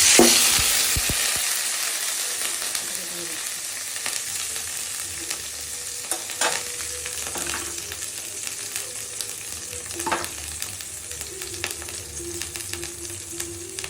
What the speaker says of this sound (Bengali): এখন আমি অ্যাড করছি রাঁধুনি, আদা, কাঁচা লঙ্কা পেস্ট করা।